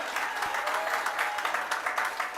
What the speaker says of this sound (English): thank you again and give yourselves some applause.